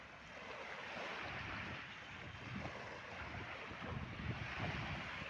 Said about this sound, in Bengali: যত বড় ঢেউ হচ্ছে তত বেশি হচ্ছে আরো